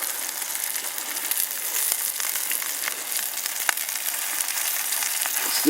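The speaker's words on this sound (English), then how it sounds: "That sizzle." Steak searing in a Onetigris Rocuboid cast iron pan, a steady bright sizzle with small pops and crackles, close and continuous, with no talking.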